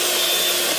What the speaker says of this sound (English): I've got an electric whisk.